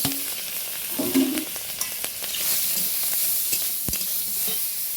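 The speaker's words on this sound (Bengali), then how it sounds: "কড়াইতে তেল দিয়েছি, তেলটাও গরম হয়ে গেছে, চিংড়ি মাছটা ভেজে নেব" Prawns fry in hot oil in a wok, a continuous close sizzle broken by a few sharp stirring clinks and scrapes.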